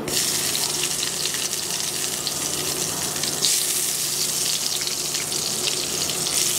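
Eggplant pieces fry in hot oil in a pan for an eggplant bharta: a steady, close, even sizzle and hiss carries on without a pause, with no talking.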